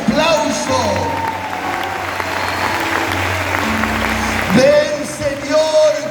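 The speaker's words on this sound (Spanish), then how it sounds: "Fuerte, iglesia, ese aplauso." A church congregation applauds loudly and steadily during a sermon, a dense continuous patter of many hands, with sustained musical tones from an instrument underneath and voices rising briefly toward the end.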